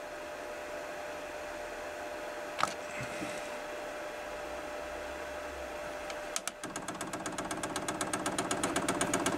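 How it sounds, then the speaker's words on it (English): A Chinese diesel heater's fuel pump primes with a steady run of rapid ticking clicks that start partway through and continue to the end, over a faint background hum. "That's pumping, so I'm guessing that's priming it."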